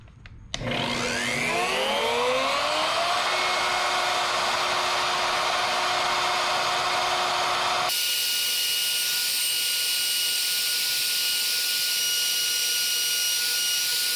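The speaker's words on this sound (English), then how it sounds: "I'm going to just take the shop vac and I'm going to suck the sawdust out" A shop vac roars up to speed and runs loudly and continuously, sucking sawdust out of a routed hole in a wooden sign, its whine shifting partway through as debris is pulled in.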